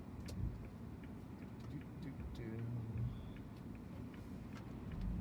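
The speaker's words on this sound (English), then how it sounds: "I just want to see how she shifts through all the gears." A salvage-auction Jaguar XJ6 sedan on the road gives a low, muffled interior engine drone that swells slightly partway through as it pulls through the gears, with faint voices underneath.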